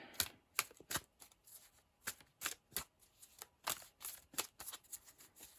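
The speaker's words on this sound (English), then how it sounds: "So, let's pull you some cards." Rider-Waite tarot cards being shuffled and pulled, a run of quiet, crisp riffling flicks and slaps in irregular bursts, close and heard alone.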